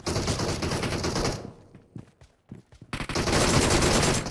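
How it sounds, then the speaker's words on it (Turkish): Heavy video game gunfire from DP and DBS guns in a squad shooter, loud continuous bursts at the start and end with a quieter stretch of scattered single shots in between. "Biri DP ile vuruyor. Biri DBS ile vuruyor."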